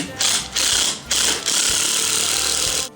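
Power driver running a screw into a birch log on a holiday wreath form, in several loud bursts separated by brief pauses, ending in one long continuous run.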